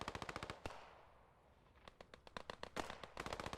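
Mortar shells and gunfire in a World War II tank and infantry match, rapid bursts of sharp cracks and booms that pause briefly and then resume in dense clusters.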